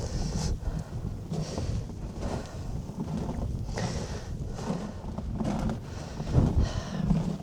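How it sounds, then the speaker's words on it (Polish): Wind blows on an exposed spot in the Gorce mountains, buffeting the microphone in continuous low gusts with no one talking. "Oczywiście wieje tu."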